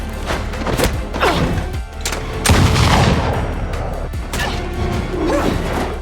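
Several sharp gunshot cracks and heavy thuds burst out amid a dense, loud action soundscape, with booming impacts and rumbling in between.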